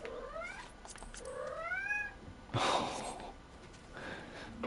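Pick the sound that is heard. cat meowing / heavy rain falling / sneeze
cat meowing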